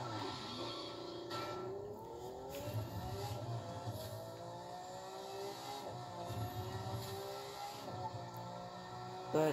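Lamborghini car in The Crew 2 racing game, the engine revving and rising through gears repeatedly with steady driving noise, moderately quiet and without talk.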